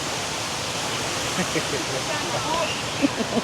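Water pours down the Water Wall in Houston in a steady, broad rushing roar, constant throughout, with faint voices and small splashes briefly rising near the end.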